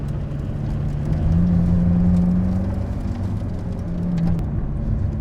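The new Lancia Stratos drives on snow in second gear, its engine a steady close rumbling drone that swells slightly and settles, with no talk over it.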